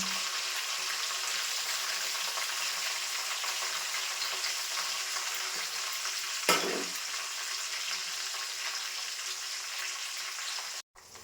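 Curry leaves and chopped coriander frying in hot oil, giving an even, soft hiss that runs throughout, with one brief clatter midway and no voices.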